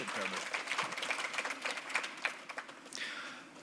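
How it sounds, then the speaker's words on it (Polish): Audience applause for the curators at a student interior-and-courtyard design competition event in Poland: a fairly quiet, brief patter of clapping from the room that tapers off near the end. "Brawa dla nich"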